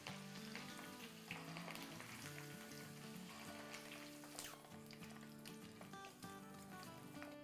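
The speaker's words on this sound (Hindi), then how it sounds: "अब हम ये डालेंगे अपने कड़ी पत्ते और हरी मिर्च" Curry leaves and green chilies crackle and sizzle loudly in hot oil over a medium flame, a steady dense frying hiss with no talking, while background music plays underneath.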